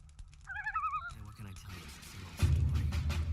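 A goose in Gothic 3 gives a short burst of wavering, nasal honks, then a jumble of game ambience and rustling that turns into a louder, steady rumble toward the end.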